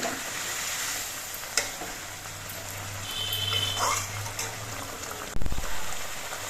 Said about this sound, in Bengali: ধনে পাতা কুচি দিয়ে নেড়ে চেড়ে মিশিয়ে নিতে হবে